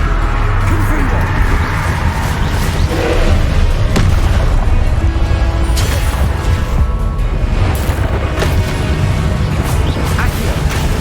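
Confringo fire spell blasts in the video game Hogwarts Legacy, dense booming explosions layered under a continuous roar of game music and effects, loud throughout with several sharp bursts.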